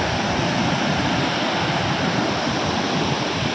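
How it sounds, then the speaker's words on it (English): Pykara Falls, where the Pykara river tumbles down over rocks, roaring as a loud, dense, steady rush of falling water with no voices over it. "Pykara river, which is forming the waterfall after descending down the rocks."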